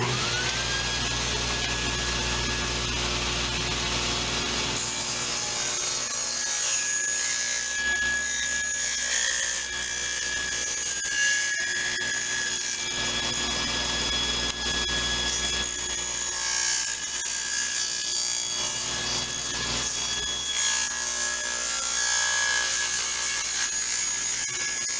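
A table saw runs with its blade set just deep enough to cut through the bottom layer of PVC, giving a steady loud whine with a rasping cutting tone that holds throughout, close and with no talk.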